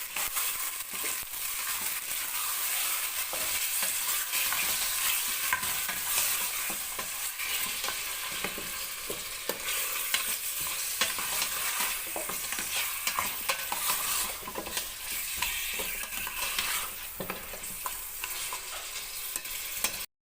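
Pork frying in a pan for a Filipino sabaw (soup) dish, a steady dense sizzle with crackle and scraping stir strokes running throughout, close and continuous, with no talk.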